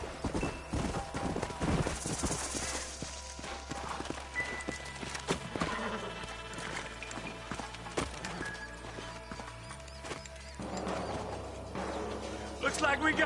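Horse hooves clip-clop steadily in Red Dead Redemption, several horses moving at a walk over game music and ambient sounds, with a brief whinny and creaking tack near the end.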